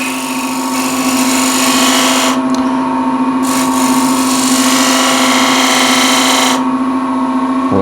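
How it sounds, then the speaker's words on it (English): Wood lathe spinning a workpiece while a 1/2 inch spindle gouge cuts a detail, a loud steady motor whine with a strong constant hum and bursts of brighter cutting hiss, close and continuous. "I'll use a spindle gouge 1/2 inch just to first make some sort of a detail here"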